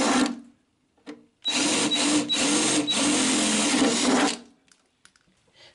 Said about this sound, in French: je vais les percer à 6, avant de les percer à 8 déjà